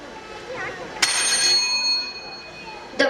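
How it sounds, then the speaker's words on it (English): A school bell rings to open first period at an annual function skit, a bright sustained ringing that starts sharply and fades over a few seconds, with a second short ring near the end. "The bell rings and the first period starts"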